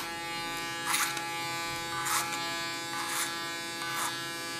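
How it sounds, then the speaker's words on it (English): An electric hair clipper cutting hair on a short, cropped side: a continuous close, steady buzz that swells into four brighter bursts about a second apart as the blades pass through hair. "Use my clipper as a comb."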